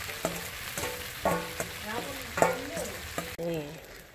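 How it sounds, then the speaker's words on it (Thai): Red Thai curry paste sizzles in hot oil and gets stirred together for a spicy stir-fried catfish dish, with a steady fry hiss broken by sharp spatula scrapes and knocks at an uneven pace, close up. "ทำให้มันเข้ากันกับน้ำมันเนาะพริกแกงกับน้ำมันคั่วมันเข้ากัน"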